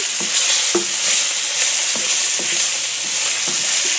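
Lemon wedges sizzle in melted butter in a pan, a steady bright frying hiss with a few soft clicks and pops of utensil contact, close and fairly loud with no voices.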